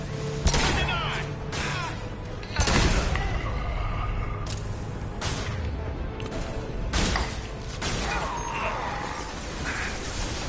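Gunfire during a squad firefight in the video game Mass Effect 2, several sharp bursts and booms scattered across a busy battle mix, with voices talking in between.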